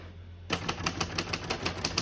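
Keys clacking on a 1979 Royal Sabre portable manual typewriter, a quick even run of about a dozen sharp strikes after a short quiet start, close and distinct.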